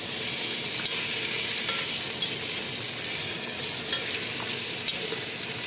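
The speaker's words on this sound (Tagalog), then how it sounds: "Pan-fry natin ng slightly brown." Fish pan-frying in hot oil for a Chinese lotus root soup, a steady loud sizzle with faint stirring scrapes running continuously, no voices.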